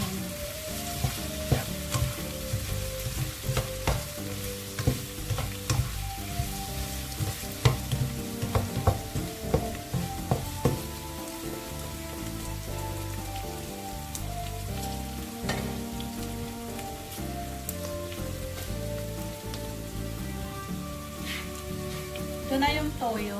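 Garlic frying in a pan for pork adobo while being stirred: loud crackling sizzle with repeated clanking and scraping of the utensil against the pan, a voice briefly in the background.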